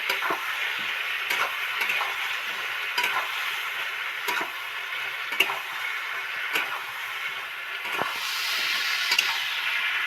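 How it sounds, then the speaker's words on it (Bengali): Spice masala stirred into fried soybean chunks in hot oil: a steady high sizzle with regular spoon scrapes every second or so across the pan, and no speech. "এবার এই মশলাটা এর মধ্যে অ্যাড করবো নেড়ে ফেড়ে মিশিয়ে দেব"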